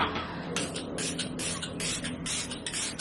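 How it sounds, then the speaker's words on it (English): Several short hissing bursts of a Catrice Oil Control Matte Fixing Spray misted onto a face, close and fairly loud, coming in quick succession over a low background. "I'll also just spray my face slightly with this Catrice Cosmetics Oil Control Matte Fixing Spray"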